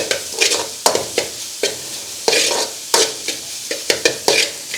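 Thazhuthama leaves with salt are heated in a pan. A soft background sizzle runs under a dozen sharp scraping stir strokes that come in an uneven rhythm, close and fairly loud, with no voices.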